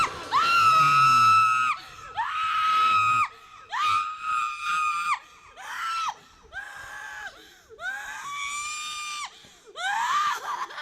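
Person screaming during an exorcism at a prophet's ministry gathering, a series of loud, sustained high-pitched shrieks in repeated bursts with short gaps, some breaking and falling in pitch.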